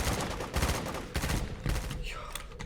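Bursts of rapid gunfire in the Roblox-style game Da Hood, several volleys in quick succession at moderate level, with a voice speaking faintly under them.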